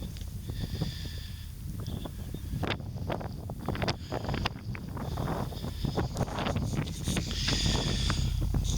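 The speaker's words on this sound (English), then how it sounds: "It's very windy." Strong wind buffets the microphone outdoors at a field site during a windy skywatch, a steady loud roar with gusting rumble and rustle throughout, no voices.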